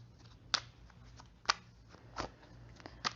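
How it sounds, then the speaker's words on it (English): Several crisp, papery tarot card flicks land at irregular intervals, about four sharp riffles standing out over a quiet, faintly humming background. "I like to pause it when I'm shuffling because I know this shuffling can be loud"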